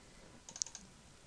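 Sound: computer mouse double click

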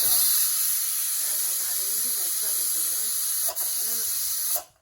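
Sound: pressure cooker releasing steam

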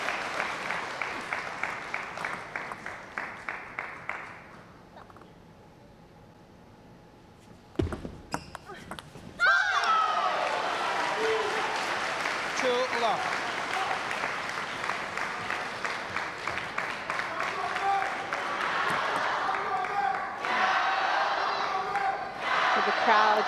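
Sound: crowd applauding and cheering for Team China at table tennis match

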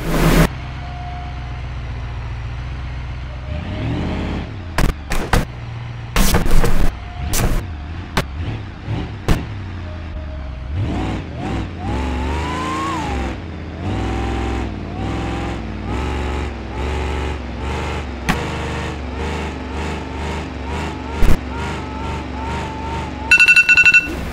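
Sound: car engine running in BeamNG.drive video game, Soliad Sunville mod

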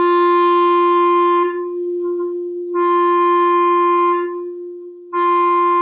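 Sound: clarinet open G with tongue lightly muffling the reed tip

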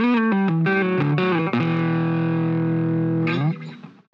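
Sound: guitar distortion pedal

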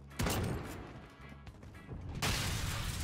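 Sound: explosion in the video game Call of Duty Modern Warfare

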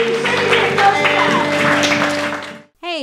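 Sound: congregation applauding, clapping hands in praise

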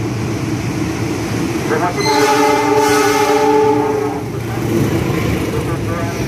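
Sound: train passing through Cikini station with horn

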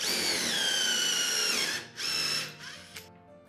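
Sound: power drill drilling screw holes in canoe planks

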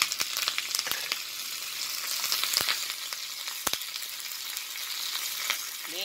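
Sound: curry leaves frying in hot boiling oil

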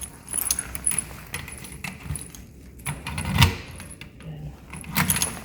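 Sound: keys jangling

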